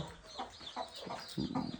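Village hens clucking in short bursts with faint high peeping of chicks, a little louder toward the end.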